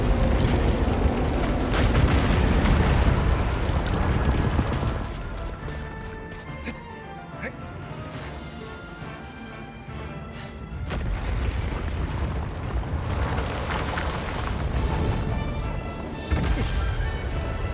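Riding music swelling in from the video game Shadow of the Colossus, a dense loud orchestral track that shifts mid-way into a quieter passage before building again, playing alone with no talking.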